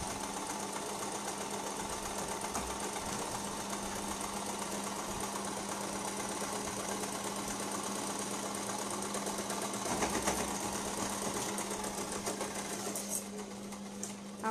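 Sewing machine running steadily while double-stitching a baby frock, a continuous fast mechanical whir and rattle, close and fairly quiet, with a brief louder burst near the end.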